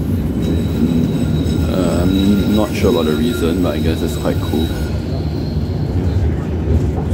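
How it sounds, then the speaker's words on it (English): Tram number 7 rolls through Finland, heard from inside as a steady loud rumble with wheel squeal and rail clatter throughout, while someone talks over the noise. "on the way back to the hotel on the tram number 7"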